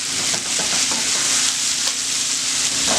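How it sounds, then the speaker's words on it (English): Onions and pork fry in a pan for pork and rice, a loud bright sizzle running throughout while a utensil stirs and scrapes in several brief strokes. "once we get all this stirred up, onions browned, everything's good"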